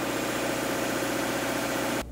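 A Subaru boxer engine idles smoothly just after a cold start at -20°C in snowy Ulanbutong, a steady close hum with a high cold-idle speed that cuts off abruptly at the end.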